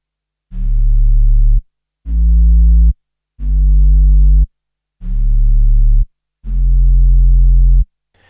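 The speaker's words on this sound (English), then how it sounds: "the second bass voice in the XPK130 is the sound of the pipe organ bass" Pipe organ bass voice from a Hammond XPK130 MIDI pedalboard: five deep sustained pedal notes, each held about a second with clean silence between, loud and pure with no talking.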